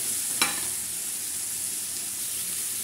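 Desi chicken pieces hiss in spiced oil in a kadai, a steady close sizzle that runs throughout, with one sharp clink of a utensil near the start and no voices.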